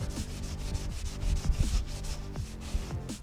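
Vigorous back-and-forth scrubbing on a dirty metal roof of a 1984 Ford Shasta vintage RV, a close, loud rhythmic rubbing with steady strokes and no talk.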